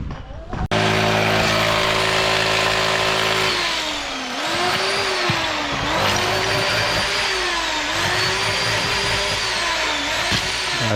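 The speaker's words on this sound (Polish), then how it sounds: "Jedzie kuzyn ładowarką." A wheel loader drives across a demolition site cluttered with rubble, its diesel engine droning loudly and steadily nearby with rising and falling revs and a whining hydraulic tone.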